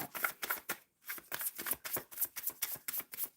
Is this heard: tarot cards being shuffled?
yes